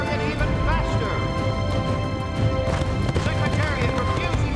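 Racehorses galloping flat out in a dramatised race from the Secretariat film, a dense, loud rush of hoofbeats blended with a full, steady wash of other sound throughout.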